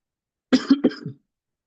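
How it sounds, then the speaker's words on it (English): A single person coughs in a classroom, a short burst of three or four quick harsh hacks close to the microphone, alone with silence before and after. "I'll literally cough the whole class"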